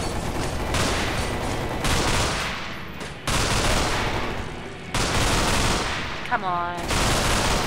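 Dense bursts of automatic gunfire from the video game Underhell, loud and near, with rapid shots broken by brief pauses. A voice speaks briefly near the end.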